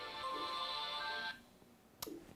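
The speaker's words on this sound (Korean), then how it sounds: "전화가 왔었는데 잠깐 끊겠습니다." A telephone rings with a bright, steady electronic ringtone for just over a second, fairly clear, then stops and leaves quiet room noise and a short click.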